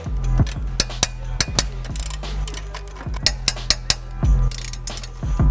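A wrench ratchets while tightening actuator mounting bolts, with flange nuts on the hardware: a series of sharp metallic clicks, some in quick bursts, others spaced apart, close and clear with no talking.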